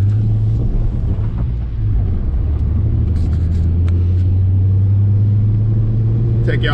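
Nissan S13 car driving slowly along an icy road, a steady low engine hum and rumble held close and constant, with light wind noise and a few faint clicks over the top.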